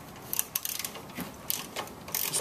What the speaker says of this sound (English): Use a 3/8 inch ratchet with an extension and a 12 millimeter socket.